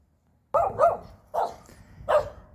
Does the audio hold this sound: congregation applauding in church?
no